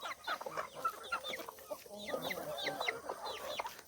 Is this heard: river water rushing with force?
no